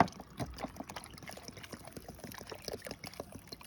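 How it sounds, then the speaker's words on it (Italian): Water poured over cured Sicilian olives in a container, a quiet, uneven trickle and splash lasting a few seconds at close range, with no talk. "Quindi si aggiunge l'acqua."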